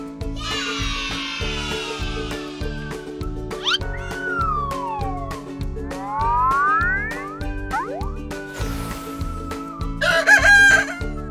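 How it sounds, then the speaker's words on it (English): A rooster crows in a farm-animal setting over a bouncy, rhythmic music backing with cartoonish sound effects, its calls rising and falling across several phrases. "Rooster."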